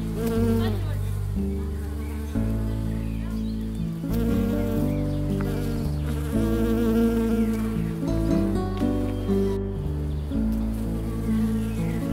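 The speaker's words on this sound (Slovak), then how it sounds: "Na ne mali v tomto období záľusk opeľovače, čo boli hlavne čmeliaky, včely, osy a motýle." Bumblebees, bees and wasps buzzing around sunflowers in a garden, a steady close drone that persists throughout, layered over sustained tonal background music.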